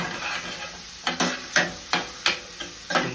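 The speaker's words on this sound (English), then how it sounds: "now we're gonna saute onion, scallion," Onion, scallion and garlic sautéing in a pan, a soft background sizzle broken by half a dozen sharp, regularly spaced scrapes and clacks of a utensil stirring against the pan, close by with no talking.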